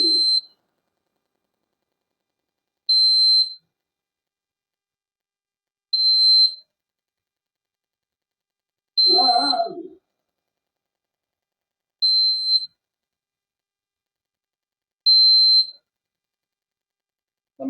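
An automatic temperature and humidity indicator's buzzer sounds once the reading passes 33 degrees Celsius, giving short, clear high beeps spaced about three seconds apart with silence between them. One brief muffled noise falls midway.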